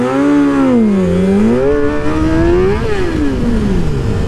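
A motorcycle revs and accelerates during a race, its engine whine climbing and dipping in pitch, loud and close, with no voices.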